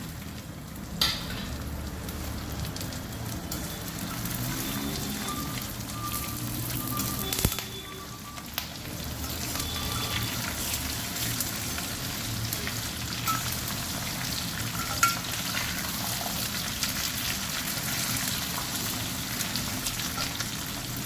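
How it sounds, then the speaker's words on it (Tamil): Curry leaves frying in hot oil, a steady crackling sizzle with scattered sharp pops and splutters, fairly quiet and continuous with no talk. "கருவேப்பிலை போடுறப்போ கொஞ்சம் தூரக்க நின்றுண்டு போடுங்க, ஏன்னாக்கா மேலே வடிக்கும்"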